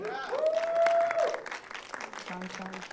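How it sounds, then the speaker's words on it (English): A brief burst of audience clapping at a startup pitch session, with a high whistle and a few voices, fading after a couple of seconds. "let's give a round of applause"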